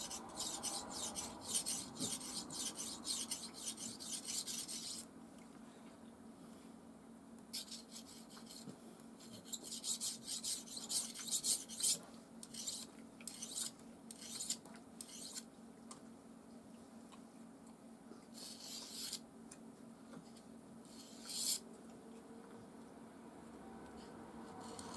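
Steel blade rasping back and forth across a banded jasper Viking whetstone, close and fairly quiet, in bursts of repeated strokes separated by short pauses.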